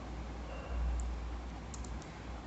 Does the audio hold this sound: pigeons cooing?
no